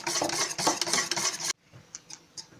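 Brisk, close scraping and slapping of a utensil stirring thick pancake batter with milk and boiling water in a bowl, stopping abruptly, then a few light clicks.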